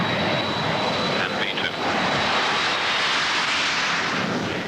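A BAC One-Eleven airliner taking off from a busy airfield, its engines producing a loud, continuous roaring rush with a thin high whine, close and sustained throughout, with voices heard underneath.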